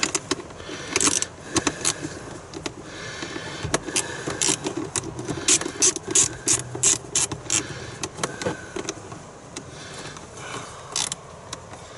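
A ratchet tightens a car battery terminal on a 2000s Porsche Cayenne Turbo 955: bursts of quick clicking, with metallic clinks and handling noise between them, close and fairly loud, no talk.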